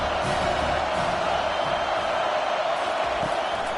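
Stadium crowd noise from the College Football 25 video game, an SMU vs Penn State playoff matchup, a steady loud roar of fans urging on the defense before a big third down, continuous with no clear peaks.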